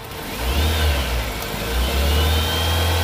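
A 2000 Toyota Soluna XLi engine revs up from idle, a steady mid-pitched roar that swells, holds, then climbs again, close and loud with no talking.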